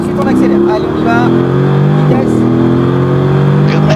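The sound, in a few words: V8 car engine accelerating on a race circuit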